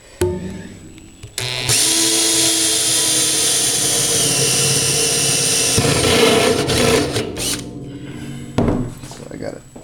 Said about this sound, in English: Just pilot drill a hole.